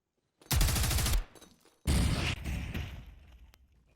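Grenade blast and gunfire in a competitive team shooter match: a sharp burst of rapid shots, a brief pause, then a loud explosion with crackling debris and fading rumble, close and without voices.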